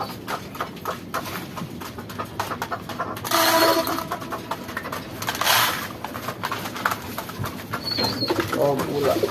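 Pigeons coo softly amid fluttering and shuffling, with a couple of louder bursts of wing flapping and a voice talking nearby.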